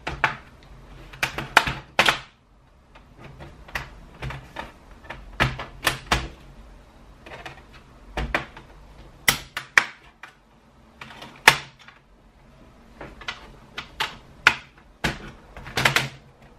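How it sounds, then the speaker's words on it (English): A small flat metal pry tool works along the seam of a Dell computer case, giving repeated sharp plastic clicks, snaps and taps at an irregular pace, close and crisp, with quiet gaps between them. "we'll take our flat, small metal pry tool, we'll go along the seam and gently try to pry it up"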